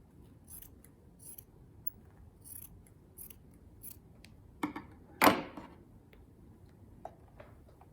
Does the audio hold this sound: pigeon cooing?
no